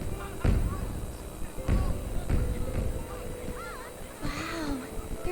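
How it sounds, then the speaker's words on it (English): Fireworks burst in a Detective Pikachu game scene: a few sharp booms at uneven intervals, set against a steady backdrop with tonal voice-like calls. "The fireworks have started."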